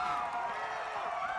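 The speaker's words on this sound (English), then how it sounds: "An energetic Seattle crowd." Energetic Seattle audience cheering and whooping in a dense, steady roar, loud and continuous throughout the brief moment with no distinct single voices standing out.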